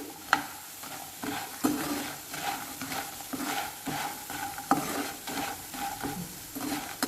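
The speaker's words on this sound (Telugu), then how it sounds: "ఇవి చాలా జాగ్రత్తగా దగ్గరుండి ఫ్రై చేసుకోవాలి." Vadiyalu, sun-dried lentil dumplings, fry in a pan under a continuous sizzle, with repeated spatula scrapes and knocks as they are stirred steadily throughout.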